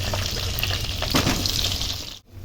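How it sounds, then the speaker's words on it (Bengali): Cut, washed potatoes fry in oil left over from frying meat, a steady close sizzle with a few stirring scrapes and a brief dip near the end. "মাংস ভাজার তেলে আমি আলু ভেজে নিচ্ছি"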